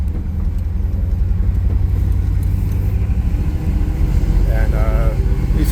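A 1955 Chevrolet Bel Air 2-door hardtop cruises along, its engine a steady low rumble with road noise building slightly toward the end, while someone talks over it.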